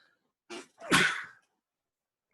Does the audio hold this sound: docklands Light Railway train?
no